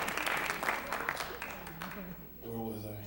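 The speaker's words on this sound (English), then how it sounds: "give me a clap, give me a clap" An audience at a Bollywood Bash event claps in a dense burst that fades within two seconds, after which a voice speaks alone.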